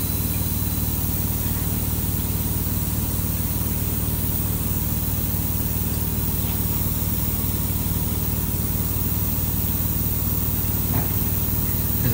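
Air hisses steadily out of a radiator being bled on a Baxi boiler heating system. The even, unbroken hiss is fairly loud and close, lasting the whole twelve seconds.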